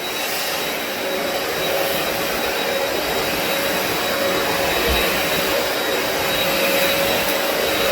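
A special carpet washer machine pulling sand out of carpet, a steady loud vacuum-like roar with constant airflow hiss and no change in pitch throughout.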